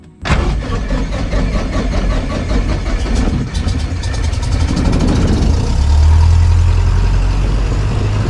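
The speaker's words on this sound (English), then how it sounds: "let's get this engine started because it is hot" A light aircraft engine cranks and catches, then settles into a loud, steady roar that deepens slightly as it idles, with no talking.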